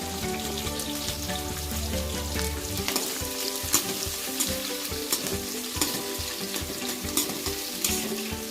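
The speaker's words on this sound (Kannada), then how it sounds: "ನೆಕ್ಸ್ಟ್ ಬೆಳ್ಳುಳ್ಳಿ ಹಾಕಬೇಕು. ನೋಡಿ, ಎಣ್ಣೆ ಚೆನ್ನಾಗಿ ಕಾದೋಗ್ಬಿಟ್ಟಿದೆ" Garlic tossed into well-heated oil sizzles and spatters loudly and steadily up close, a dense crackling hiss with scattered pops and no voices.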